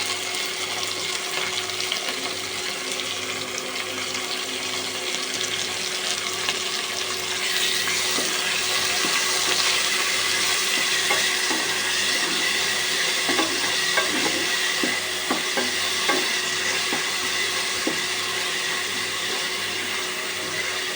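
Two tablespoons of ginger-garlic paste fry in hot oil for beef nihari with a loud, continuous sizzle, stirred now and then, for the whole stretch.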